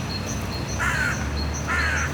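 A crow perched in the city of Kyiv gives two separate harsh caws about a second apart. The calls are clear and fairly near over steady outdoor background noise.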